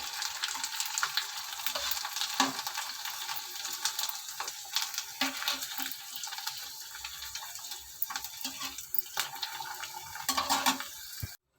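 Mustard seeds, cumin and dried red chillies sizzle and crackle in hot oil for a tempering for chukkakura pappu, a steady close-up frying hiss dotted with sharp pops and spatters.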